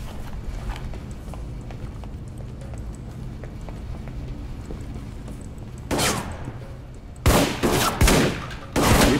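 Gunfire from the video game Alpha Protocol cracks out in a few sharp, loud shots near the end after a quieter stretch of low ambient rumble and faint footsteps.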